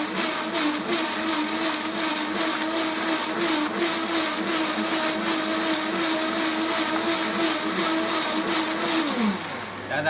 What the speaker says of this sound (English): really high commercial blender